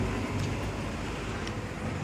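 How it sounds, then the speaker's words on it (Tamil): Steady roadside traffic on a road by a bridge in Madurai, with government buses going past, a continuous low rumble of passing vehicles at moderate distance with no talk. "கவர்மெண்ட் பஸ் போய் வருங்க"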